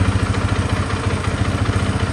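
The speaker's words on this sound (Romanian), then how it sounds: "Acum că am terminat de pus uleiul în ea, să-i dăm o pornire, să vedem dacă pornește." A Husaberg motorcycle engine running after fresh oil, a steady loud close-up idle with rapid, even thumping pulses and mechanical clatter, no voices.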